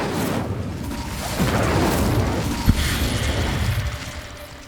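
A Hogwarts Legacy Incendio fire spell roars with a broad rushing blast, and a single sharp boom cracks out midway through the sustained whooshing burn.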